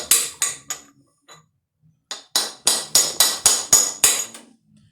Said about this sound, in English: let me grab my hammer. Do a little tappy tap tap.